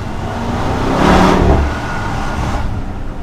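Alpina B7 xDrive luxury sedan accelerating on a snowy, wet road, engine swelling to a loud rushing peak and easing off again, heard from inside with road noise throughout and no talking.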